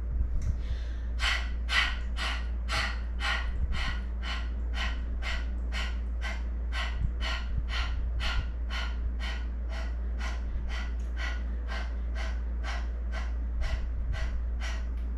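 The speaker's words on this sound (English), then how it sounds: "And a nice breath in, out. We'll take another round just like that. Really pump your abdomen." Rapid, forceful yoga breathing that pumps the abdomen, about two dozen sharp, evenly spaced nasal exhales over a steady low hum, close and clear.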